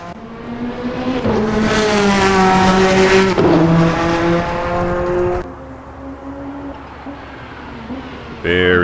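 The Bentley Speed 8 prototype race car in a racing game howls loudly, then its engine note drops sharply under hard, late braking with a brief wheel lock-up, followed by quieter idling revs.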